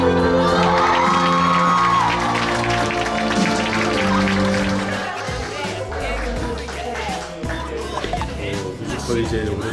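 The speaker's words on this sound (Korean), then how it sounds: "다 같이 들릴 수 있게 박수 한 번씩 해요" Audience at the final performance of the musical 'Oh! Hae-young Again' applauding and cheering with whoops, crowd noise mixed with music and a voice, sustained and loud throughout.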